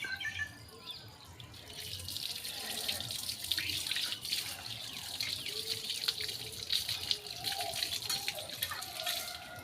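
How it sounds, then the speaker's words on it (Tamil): Running tap water splashes steadily into a sink with intermittent clinks of dishes being washed, continuous and fairly close throughout. "அம்மா வந்து பாத்திரம்லாம் கழுவிட்டுருக்குறாங்க கழுவிட்டு அப்படியே தண்ணி பிடிச்சிட வேண்டியதான்"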